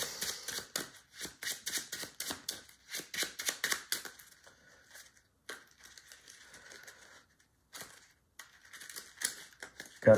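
A deck of playing cards shuffled at close range during a card game, heard as a rapid run of crisp riffling snaps that thin into scattered soft slides and taps, then a few final clicks.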